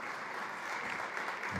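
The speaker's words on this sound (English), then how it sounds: "Give them a round of applause, please." Audience applause for a panel at a food summit during SXSW: a short, even burst of clapping from a crowd, fairly soft and alone.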